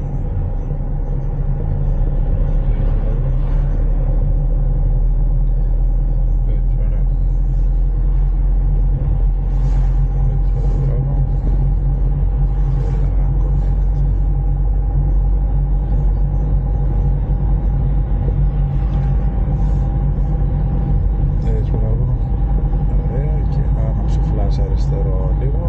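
A car's engine hums steadily through a driving lesson, with a slight throttle increase over a constant low rumble while an instructor talks throughout.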